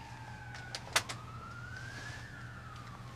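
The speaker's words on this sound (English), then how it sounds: "There is sirens going in the background, which adds to the ambience" A siren wails faintly in the distance, its tone slowly rising and falling, with a couple of brief knocks or thumps nearby.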